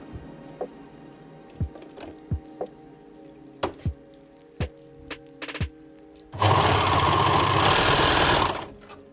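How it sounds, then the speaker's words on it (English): An overlock sewing machine stitching fabric along the edge of a baby's pants for photography props; scattered knocks and thumps come first, then a loud, fast, continuous whirring run of about two and a half seconds before it stops. "now I will overlock it here to the top"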